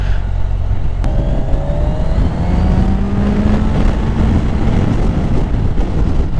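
Kawasaki Ninja 1000 SX four-cylinder motorcycle engine droning steadily while riding, with rising tones under heavy wind buffeting throughout.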